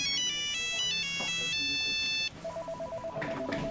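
A Nokia brick-style mobile phone rings, first with a bright melodic run of beeping tones, then a steady, evenly pulsed repeating tone, close and clear.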